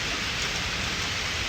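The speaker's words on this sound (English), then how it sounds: "I can't see the rain as good as you could see over there" Steady, dense rain falling outdoors, a continuous even hiss filling the clip with no speech over it.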